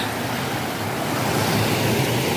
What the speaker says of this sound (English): The water is actually like going back into the river.